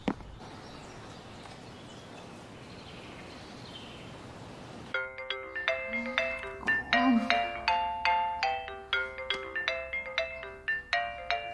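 A phone ringtone for an incoming call chimes in after a quiet stretch, playing a bright repeating melody of tonal notes at close range and steady loudness until the end.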